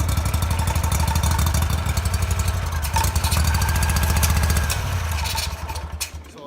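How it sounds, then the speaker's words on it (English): A V-twin mini bike engine runs steadily with a loud, close, chugging rumble for several seconds, then falters and dies away near the end as it fails to keep running. "I did get the motor running, but I can't keep it running"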